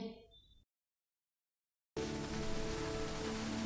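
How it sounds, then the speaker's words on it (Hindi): Sudden onset of heavy rain in a village courtyard after a brief silence, a dense, steady hiss of downpour that stays loud and continuous to the end. "टिप टिप करके बारिश के बूंदें गिरने लगती है। देखते ही देखते झमाझम बारिश शुरू हो जाती है।"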